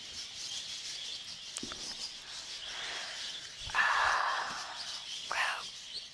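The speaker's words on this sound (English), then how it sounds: "But the birds are still noisy." Birds chirping in the video game The Last Door, faint and scattered over a quiet ambient backdrop, with a few brighter calls standing out near the end.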